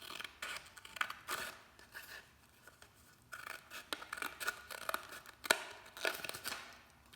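Scissors snip and slide through paper for a pandemic art kit rainbow project, a run of close crisp cuts and rasping scrapes with short pauses between strokes, no talking.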